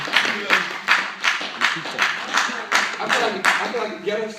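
An audience clapping to welcome Ras Jomo at a Sankofa Day gathering in Buffalo, New York, a steady rhythmic clap on roughly every half second, fairly close and even, with voices mixed in.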